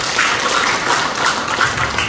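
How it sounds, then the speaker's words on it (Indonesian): Audience applause at a network-marketing business seminar, a steady dense wash of clapping at moderate loudness with no breaks across the short stretch. "Tepuk tangan dulu."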